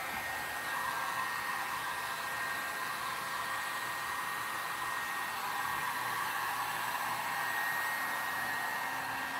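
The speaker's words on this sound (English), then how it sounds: "I'm going to hit it with the heat gun" A heat gun blows on wet paint on a modified mask, a loud, even whoosh of hot air that runs unbroken and close throughout.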